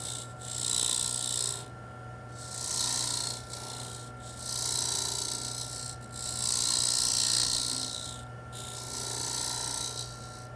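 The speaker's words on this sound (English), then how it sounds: "Then use a detailing scraper to widen that groove." A detailing scraper widening a groove in a wooden toy top turning on a lathe gives a steady, close rasping scrape in several long strokes separated by short pauses, over a constant motor hum.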